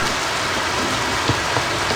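Heavy rain in a survival crafting video game, a dense, steady hiss of falling water with no voices.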